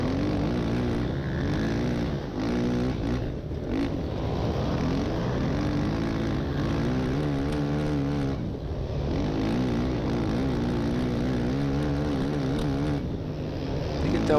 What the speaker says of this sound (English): It's just still the engine is pinging down the straightaway right off the corners.